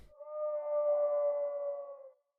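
A bird chirp pitched down over two octaves, used as a low sound design layer for a Star Wars style effect: one sustained, moaning tonal note lasting about two seconds, heard alone, swelling and then fading out.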